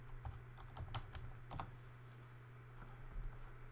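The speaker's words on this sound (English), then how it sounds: "I'm going to put my password once again." Keys clacking on a computer keyboard as a password is typed, a few quiet irregular bursts of clicks over a steady low hum.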